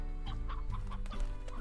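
Chickens clucking in the video game Slime Rancher, a short run of close, steady clucks and soft hen calls with no talk over them.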